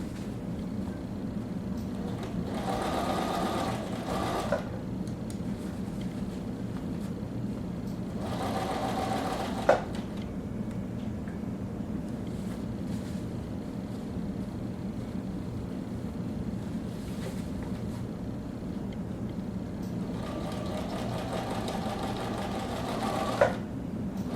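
A sewing machine stitches a cuff piece onto a sleeve for an atikłuq, humming steadily in three bursts of several seconds each, with a constant low background drone between them.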